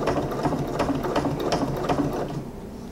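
A sewing machine runs a steady seam on a leopard-print apron at stitch length 3.5, its fast needle chatter loud and close, easing slightly toward the end.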